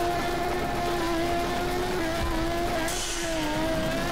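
A race car drifting in the video game Torque Drift: a loud, continuous engine howl with steady shifting tones and tire squeal running underneath, heard alone without voices.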